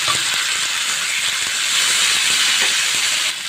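Ground spice paste hits hot oil already browning with chopped onion and dried chili, the base for a quick rohu fish bhuna; a steady, close, loud hiss of sizzling runs throughout with faint clicks and no talking.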